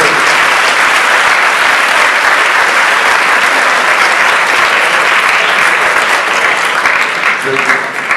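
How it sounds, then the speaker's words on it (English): A large audience breaks into a sustained round of applause at a talk about Israel, a dense, loud wall of clapping that holds steady throughout. "I want you to give another round of applause to the person who asked the question."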